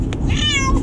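Lily the cat lets out a single close, plaintive meow while being carried to the vet.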